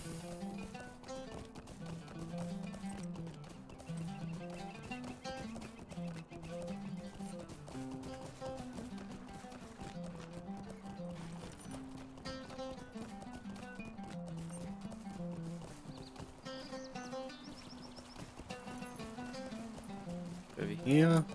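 A horse gallops in the Lord of the Rings Online game, its hooves clip-clopping in a steady rapid rhythm at moderate volume over a continuous game soundtrack, with a louder clatter at the very end.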